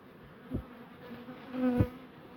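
Honeybees hum steadily in the background at a hive, with individual bees buzzing past close to the microphone twice.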